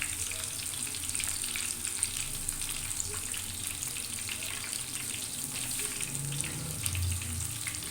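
Fish frying on a tawa gives a steady, close sizzle with crackling spatter throughout, a continuous hiss with no talking.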